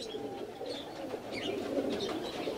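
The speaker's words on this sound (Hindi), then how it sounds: "किस टाइप के कबूतर हैं ये माशाल्लाह से" Highflyer pigeons cooing softly in a loft setup, low murmuring calls with faint chirps over a quiet background, no talk.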